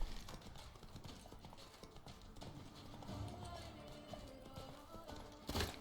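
Hooves of the horse Roach clip-clopping at a run in The Witcher 3, a quick steady galloping rhythm under game sounds, with a sharp burst at the end and a voice talking over it.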